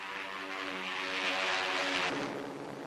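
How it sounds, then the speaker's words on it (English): A diving fighter plane in a 1942 newsreel roars past, a droning propeller engine that swells to a peak and then shifts pitch as it pulls away, with no voices. "Their job is to protect their ship from assault by diving fighters like this."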